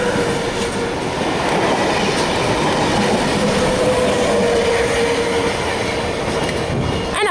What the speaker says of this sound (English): Car V-set passing platform number 1.